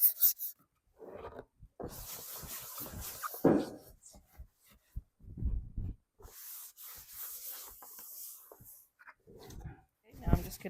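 Sandpaper rubs over wood in short, scratchy strokes that come in irregular bursts separated by quiet pauses, close and fairly soft.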